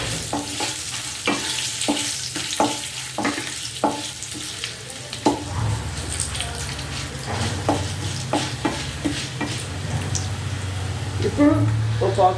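Dried red chillies and a lemon-sized lump of tamarind frying in a pan, a continuous sizzle with rhythmic spoon scrapes and stirs. A voice talks over the cooking for much of the clip.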